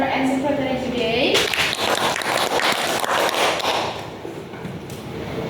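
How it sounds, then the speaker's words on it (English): An audience at a seminar presentation bursts into sustained applause after a brief voice, clapping densely for several seconds before it thins out. "let's give applause to our presenter and secretary today"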